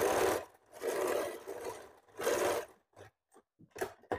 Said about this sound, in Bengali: উপর থেকে সেলাই করে নিচ্ছি